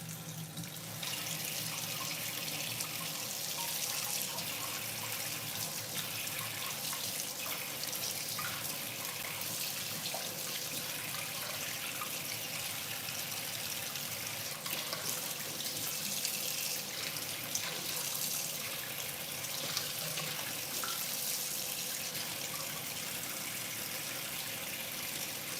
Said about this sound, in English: You want to wash in cold water.